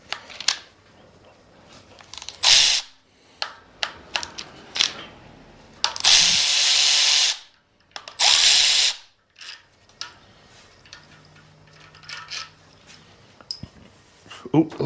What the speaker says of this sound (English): Let's get these front cam caps off real quick.